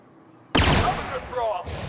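In The Outer Worlds, a sudden loud burst of gunfire erupts after a quiet moment and rings out in a rapid flurry, while voices shout over the shooting.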